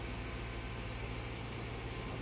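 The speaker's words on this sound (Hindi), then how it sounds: "ये देख सकते हो दोस्तों, कन्वेयर बेल्ट चल रहा है।" A conveyor belt runs at a concrete batching plant, producing a steady, unbroken mechanical whir and hum with a dense noisy wash that stays at an even level throughout.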